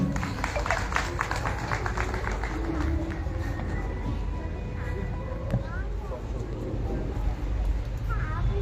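Steady audience applause at a stage event, a continuous wash of many hands clapping for several seconds with voices mixed in.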